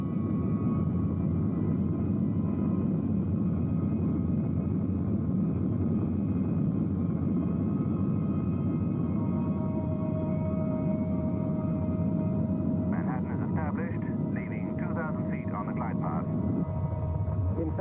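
A British Airways airliner flies in to land on runway 28 right. A steady, loud engine rumble and roar fills the whole stretch, with people talking over it throughout.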